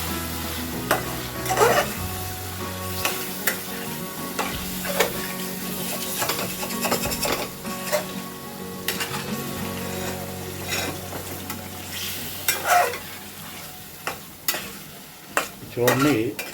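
A spoon stirs yogurt into frying tomato puree for murgh chole masala, with soft sizzling and repeated scrapes and clinks against the pan, close and steady.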